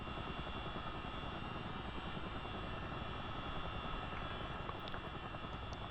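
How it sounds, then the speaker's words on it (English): Aircraft APU generator running inside a cockpit, a steady low mechanical drone with a constant whine and no talking. "Turn on our APU generator."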